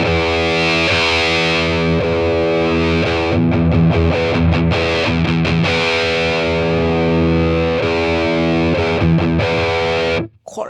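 Electric guitar played through a Line 6 Catalyst amp on a high-gain setting with treble raised, sustained distorted chords broken by a few choppy muted strums, loud and alone before cutting off.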